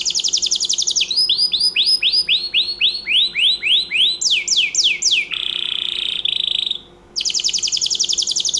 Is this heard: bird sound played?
yes